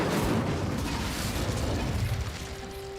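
An Incendio fire spell in a video game roars as a dense, sustained whoosh of flame and rumble lasting about three seconds, steady and fairly loud with no voice over it.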